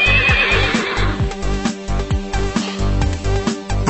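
A mare whinnies loudly several times over a steady rhythmic background of music-like pulses, the neighs bright and close at the start and recurring briefly throughout.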